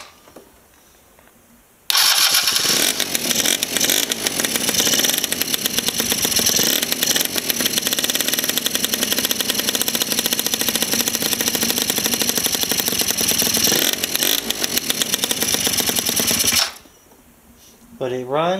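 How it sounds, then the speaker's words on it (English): A scooter engine bored out from 50cc to 70cc starts and runs loudly, a raspy, buzzing two-stroke drone that holds steady for about fifteen seconds before cutting off. "But it runs and starts and stops."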